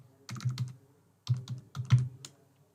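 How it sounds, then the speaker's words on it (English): Bursts of computer keyboard typing, quick clustered keystrokes in two short runs separated by a pause, close and fairly quiet. "So I'm typing here from Jotform."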